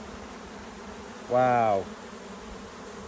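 Honey bees at an open, crowded hive give a short, close burst of buzzing lasting about half a second, rising out of a quiet background, with a brief exclaiming voice.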